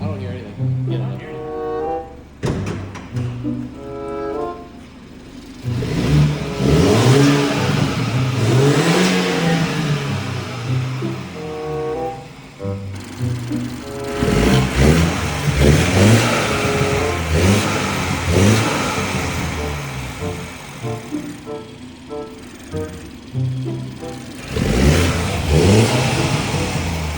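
BMW engine with an aftermarket Alibaba intake, revving in loud repeated surges and drops close by, with people talking over and between the revs.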